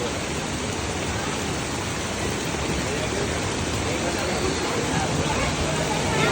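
Heavy downpour in a Surat street outside a family shop, a dense, even roar of rain that stays loud and unbroken throughout, with faint voices blurred beneath it.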